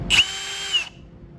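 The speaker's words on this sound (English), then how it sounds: "you can use a drill real quick." A power drill whirs for just under a second to push parts out of a diffraction kit assembly, a close, steady high-pitched whine that starts and stops abruptly, with no talking.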